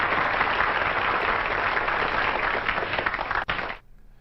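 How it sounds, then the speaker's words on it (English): Studio audience applause at a Festivus drinks segment, a dense steady burst of many hands clapping for nearly four seconds before cutting off abruptly. "We need some applause for that, right?"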